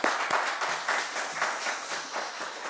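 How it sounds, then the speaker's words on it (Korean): Applause rises from the attendees of an education committee session of a local council, steady, fairly faint clapping from a group that continues throughout without any talk over it. "다시 한 번 더 큰 박수 부탁드리겠습니다"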